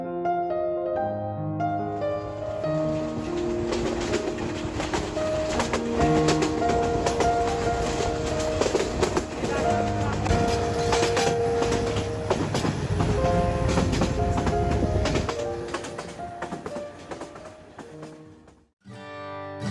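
The Jayantika Express intercity train on the Sylhet to Dhaka route runs steadily and loudly, its wheels rumbling and clattering on the rails, heard from inside a coach with no voices.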